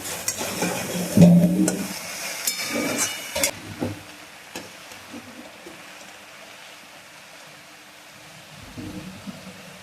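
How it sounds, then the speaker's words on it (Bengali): Sushni greens are fried with salt, garlic and chilli in a pan on a gas stove, starting with a loud burst of sizzling and stirring that fades to a faint, intermittent crackle. "এবার সুন্দর করে ভাজা ভাজা করে নিতে হবে শাকটা"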